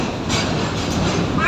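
A train runs along the railway near a station platform, its steady rumble and faint wheel clatter carrying as a continuous, moderately loud wash of noise with no voices.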